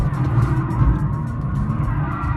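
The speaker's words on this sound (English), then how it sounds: "lighting up the rear tyres and just holding this car's back end out" A Mercedes-AMG C-Class saloon with 700 Nm of torque lights up its rear tyres, a loud continuous tyre squeal over a deep, rumbling engine drone held throughout.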